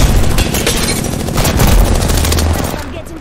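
Arc Star grenade thrown and detonating during an Apex Legends firefight, heard as dense loud bursts of rapid gunfire and booming blasts packed together, tapering off toward the end.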